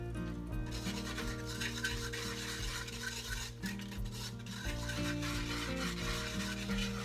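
Kadi simmers in a pot over a low flame while a spoon stirs continuously, a soft steady scraping and bubbling texture over a constant low hum, no speech.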